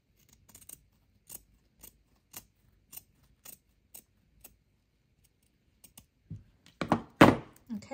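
Scissors snipping spandex fabric, a series of small crisp cuts spaced about half a second apart, followed by a few louder rustling handling noises near the end, close and quiet.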